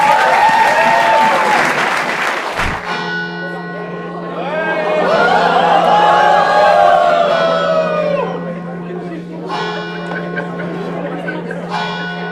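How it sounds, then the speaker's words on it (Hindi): Studio audience applause at a Hindi comedy show swells and fades over several seconds, with a loud cheering crowd, while show music and a host's voice carry on underneath. "ताली बजाएं एक बार, राउंड ऑफ अप्लॉज फॉर"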